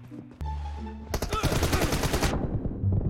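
Game gunfire in PUBG Mobile during a 1v1 team deathmatch: a sudden dense burst of rapid automatic shots fills the middle of the clip, loud and close, with a tonal game sound before it.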